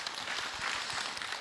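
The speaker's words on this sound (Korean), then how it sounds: "네, 박수로 맞으세요." Audience applause at a Buddhist lecture program, a steady wash of clapping hands that holds evenly for a moment without a break.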